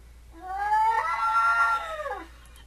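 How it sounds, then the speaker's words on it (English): A cat gives a long, drawn-out caterwauling meow with a rising then falling pitch, fairly loud and close, alone with no voices over it. "There's another kitty."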